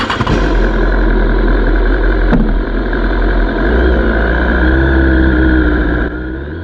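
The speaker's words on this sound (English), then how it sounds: "The riding experience on the HP4 is really dominated by the engine." BMW HP4 motorcycle engine at a trackday at Palmer Motorsports Park, a loud, steady, close engine drone with a slight pitch rise near the end before it drops away.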